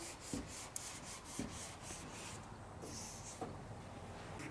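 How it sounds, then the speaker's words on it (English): Steady rasping strokes of block sanding across a car body panel on a 1969 Chevy C10 pickup, repeated back-and-forth friction at moderate level with a few sharper taps, no talking. "He's been sanding, getting everything ready."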